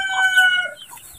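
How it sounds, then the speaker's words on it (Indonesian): A rooster crowing close by in a rural Indonesian village, one loud, drawn-out call with a clucking chicken mixed in, fading into quiet outdoor background. "Untuk ciri khas di perkampungan sahabat ya, ada suara ayam,"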